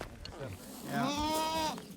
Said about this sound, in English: A herd of very friendly goats on a Montana farm in the beautiful countryside